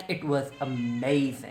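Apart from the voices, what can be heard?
cat meowing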